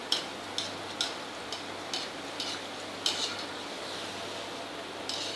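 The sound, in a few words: shankarpali being stirred while frying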